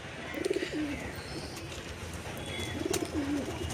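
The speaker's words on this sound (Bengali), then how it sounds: "কালপেটিয়া পায়রা বলি আমরা" Kalpetia pigeons, a breeding pair, coo twice in soft rolling phrases several seconds apart, fairly faint against a steady background hiss.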